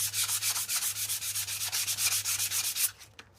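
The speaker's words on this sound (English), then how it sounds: "This is just a scrap piece of 80 grit from leftover from a handle, knife handle I shaped. And like I say, it doesn't take very much time. Try to sand with the grain," A scrap of 80 grit sandpaper rubs back and forth along the grain of a wooden hammer handle in quick, even strokes, about twenty close, loud rasps, then stops.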